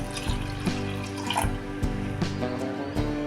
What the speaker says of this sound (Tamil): இதில் ஒரு கிளாஸ் தண்ணி ஊற்றிக்கலாம்.